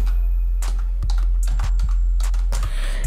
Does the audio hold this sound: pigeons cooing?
no